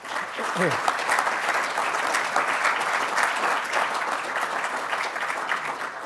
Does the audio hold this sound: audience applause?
yes